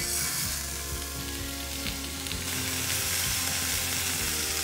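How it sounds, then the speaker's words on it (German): Involtini meat rolls sizzle loudly in a hot frying pan, a dense constant hiss with occasional crackles and faint scraping as they brown, close up with no talking. "Das schöne Zischen."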